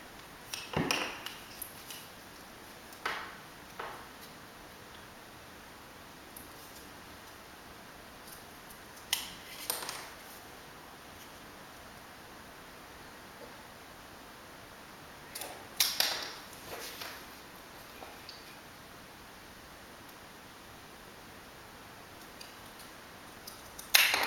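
Scissors snipping paper parts for a paper pipe robot, short crisp cuts in scattered clusters with long quiet gaps between, close and fairly faint.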